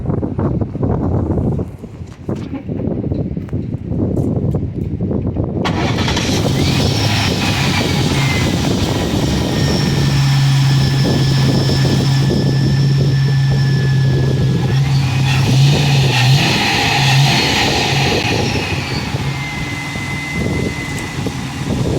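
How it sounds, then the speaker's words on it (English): Lifted Mercury Grand Marquis engine cranks and catches after an ignition coil replacement for a misfire, then settles into a loud, steady running drone that continues to the end. "Twist the key, I guess, see if this thing's still misfiring."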